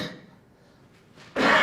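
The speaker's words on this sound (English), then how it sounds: "I don't know why I'm coughing" Someone speaking about Amazon selling gives a short, sharp cough at the end after a brief quiet pause, close and fairly loud.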